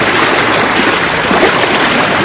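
Large volume of water rushing at Kakkadikkal waterfall, a steady loud roar of broad white noise that fills the whole clip without pause.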